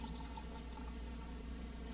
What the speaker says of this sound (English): Just be careful when you're pouring.